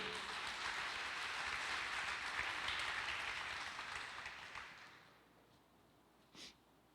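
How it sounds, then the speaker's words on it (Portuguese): A church congregation claps together, a dense patter of applause that holds for about four seconds and then fades away, leaving near silence broken by one brief sound. "Dê um aplauso a Jesus"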